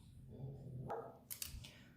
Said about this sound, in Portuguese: ele não vai parar de latir